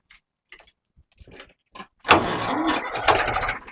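A few faint clicks and short mechanical bursts, then a loud diesel tractor engine catches and settles into a steady, rough running roar close by.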